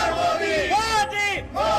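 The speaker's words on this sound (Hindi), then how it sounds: "आसपास का इलाका मोदी मोदी के नारों से गूंज उठा" A large crowd chants Modi's name in rhythmic, rising and falling slogans as it welcomes the Indian Prime Minister outside a hotel in Japan, loud and near.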